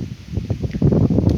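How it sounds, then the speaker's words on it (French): Gusts of wind buffet a microphone outdoors, producing low rumbling thumps and bursts that swell and fade over about a second and a half. "pardon pour le vent."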